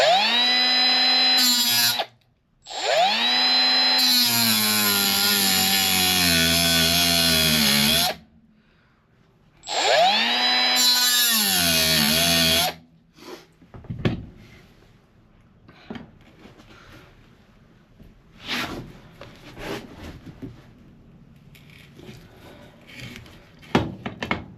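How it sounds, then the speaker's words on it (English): A power grinder cuts a flathead slot into a stuck screw head inside a 2007 International 4400 truck cab, running in two loud sustained bursts of high whining grind with a short pause between, then fading to scattered clicks and handling noise. "I'm just going to try and grind a little slit in it for a flathead"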